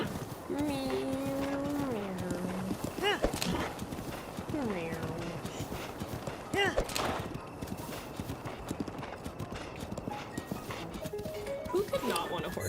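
Epona the horse in a Zelda game: steady clip-clop hoofbeats of a gallop run throughout, broken by high whinnies, with a person talking and cheering over them.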